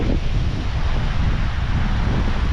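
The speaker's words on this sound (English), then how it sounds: "but it is a lot of windy" Strong wind sweeps along Diani beach, roaring loudly and continuously into the microphone with a constant low buffeting and surf washing underneath.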